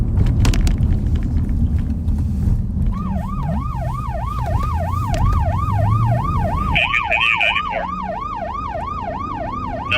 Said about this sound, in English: That's our siren.